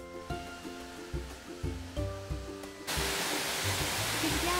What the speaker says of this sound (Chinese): 这是第一个瀑布 South Falls， 十个里边最高的一个，落差有177 feet